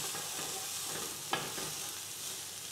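Finely diced shallots sizzle steadily in olive oil over low heat, a continuous hiss with one brief sharper tap of a utensil midway.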